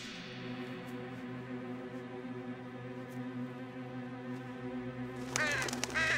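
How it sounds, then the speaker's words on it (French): A crow-like cartoon bird caws in a rapid burst of harsh, raspy calls near the end, close and loud, rising over a steady layered music bed that runs throughout. "C'est un oiseau."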